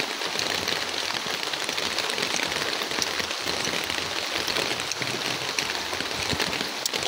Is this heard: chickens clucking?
no